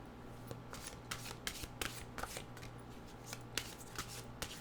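Mystical wisdom oracle cards are shuffled by hand, a quiet run of crisp riffling flicks in an irregular rhythm, close and soft with no talk.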